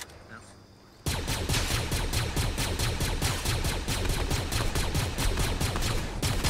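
Rapid sustained gunfire in the video game Fortnite, a dense regular stream of shots starting abruptly after a quiet second and running steadily to the end.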